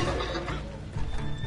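A horse whinnies in the Red Dead Redemption video game, set against a dense, busy game soundscape with steady background noise; one short neigh stands out from the mix.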